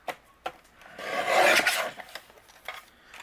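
Scissors or a blade cut paper panels into narrow strips for a handmade card, a close dry rasping slice that swells for about a second between a few small taps and rustles.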